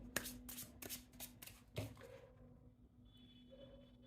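Tarot cards being drawn from a deck give a few close, crisp papery flicks and slides early on, then the sound fades to a faint room hum.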